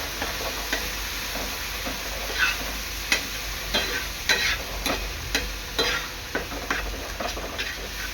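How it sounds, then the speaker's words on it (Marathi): Spinach puree is stirred into rice in a cooking pan, making soft repeated scraping strokes over a gentle steady sizzle, close and fairly quiet with no speech. "ह्यामध्ये पालकची प्युरी टाकायची आहे आणि चांगली मिक्स करून घ्यायची आहे"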